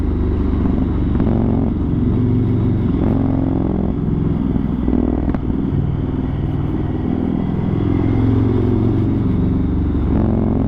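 A first-series Yamaha MT-01 motorcycle fitted with an Akrapovic exhaust cruises along a straight road, its big low-revving engine giving a loud, steady deep rumble mixed with wind noise throughout.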